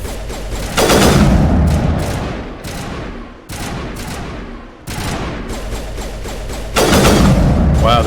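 Burst-fire weapon bursts in the video game Mass Effect 1: loud, close repeated volleys of rapid shots, separated by short gaps, with thuds and booms mixed in across the stretch.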